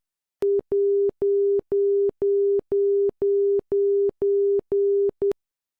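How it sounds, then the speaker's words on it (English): Steady 400 Hz Morse tone of an ILS outer marker beacon, a clean continuous series of evenly spaced dashes at about two per second, loud and alone with no talk. "It lights a blue light in the cockpit and emits a Morse tone of 2 lines per second."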